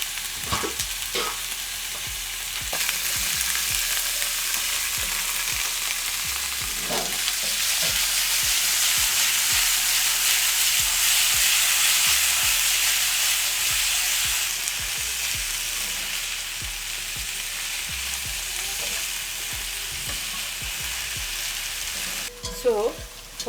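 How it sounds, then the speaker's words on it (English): Onions browning in hot oil for a rice and meatball sauce, a steady, close sizzle that swells in the middle, with occasional stirring scrapes and no talk. "So for our onions, as you can see, they are browning well."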